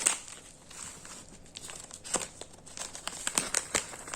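Plastic sticker packet from an AliExpress haul being opened, with soft crinkling and a few sharper tearing rustles that grow busier toward the end, close and fairly quiet.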